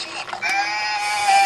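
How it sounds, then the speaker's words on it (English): A Fisher-Price See 'n Say farm toy plays a single recorded sheep bleat, a short wavering electronic baa heard up close and alone. "That's a sheep."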